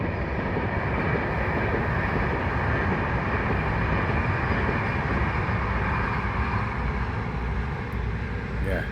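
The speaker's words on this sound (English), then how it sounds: "Excuse the train." A loud, steady low rumble of a passing train fills the whole clip, with broadband noise holding constant throughout.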